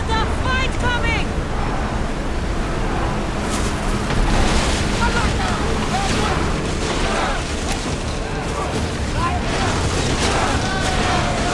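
A ship sails the open sea in Assassin's Creed Odyssey, with a steady roar of surf and wind and low booming swells. Shouted crew voices come in and out over the water throughout.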